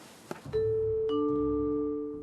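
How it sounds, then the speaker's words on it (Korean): A doorbell rings in a scene from the Korean film Parasite, two clear electronic chime tones sounding in sequence and sustaining over a low background hum. "초인종을 누른다"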